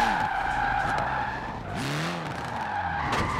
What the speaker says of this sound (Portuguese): Ó, não é que faz o drift mesmo, não?